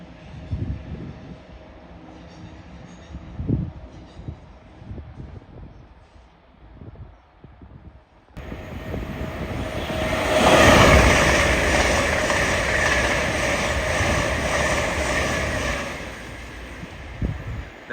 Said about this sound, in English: There goes an LNER Izuma from London King's Cross to somewhere.